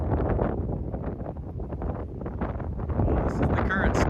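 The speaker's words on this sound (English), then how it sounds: "Sorry, it's a little windy, but not too bad." Steady wind buffets a microphone outdoors beside a road in Alaska, a rough low roar that runs through the whole stretch and swells louder near the end, with faint traffic behind it.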